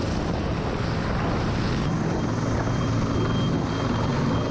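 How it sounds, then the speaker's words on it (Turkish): Rescue helicopters fly over a flooded area in Turkey's Black Sea region, their rotors a loud, steady, unbroken roar that fills the whole stretch with no voices. "Helikopterler gün boyu mesai yaptı."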